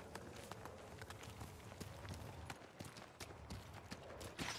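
A horse's hooves clip-clop at a steady trot in the samurai video game Ghost of Tsushima, a quick run of sharp, evenly spaced hoofbeats with faint background ambience, very quiet overall.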